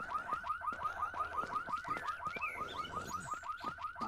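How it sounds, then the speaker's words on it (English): Alarm going off in the video game No One Survived, a loud, fast repeating electronic whooping tone like a car alarm, cycling steadily and evenly with no voices. "Oh, triggered an alarm."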